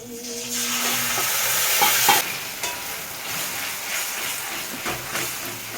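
Tomatoes hit a hot pan and fry with a loud, steady broadband sizzle and hiss, broken by a few stirring scrapes, with no talking.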